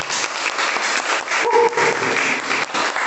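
Congregation claps during a church service, loud rhythmic applause with a brief sustained tone partway through.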